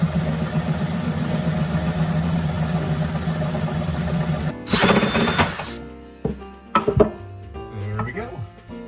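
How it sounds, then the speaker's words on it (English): An auger bit drills a hole to run a power cord through, giving a steady whirring grind for several seconds, then a burst of louder rough boring, followed by a few short knocks and rattles. "I've got to drill the hole using my auger bit there"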